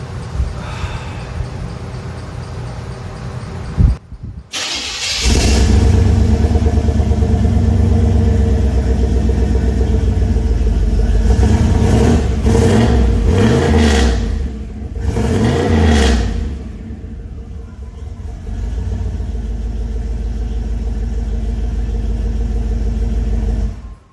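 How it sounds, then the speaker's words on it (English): A third-generation Pontiac Firebird GTA with a turbocharged small-block Chevy V8 cranks over, catches at about five seconds and roars through several sharp revs before settling into a loud, steady idle, close up with no talking. "We are gonna fire up the Firebird and"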